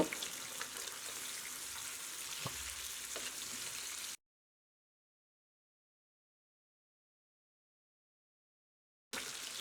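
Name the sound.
pabda fish frying in oil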